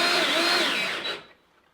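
A power drill whirs loudly up close as it drives a railroad spike into a wooden coat rack, its pitch bending slightly before it winds down and stops near the end.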